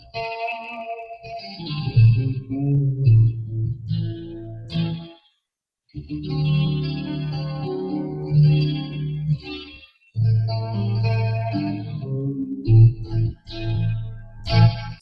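Budget Telecaster-style electric guitar with rusty strings plays chords and riffs through a clean amp setting in bursts separated by short silences, close and moderately loud with a slight chorus-like shimmer.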